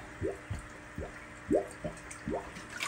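Water splashes and drips off an aquarium fish net being rinsed, with about seven separate plopping drops at an irregular, slightly quickening pace, close and fairly soft.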